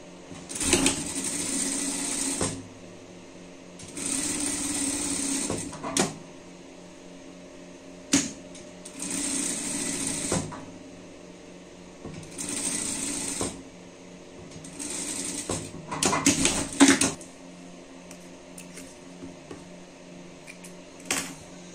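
Sewing machine stitching seams on a garment, with several long runs of steady close whirring separated by quiet pauses and a few handling clicks.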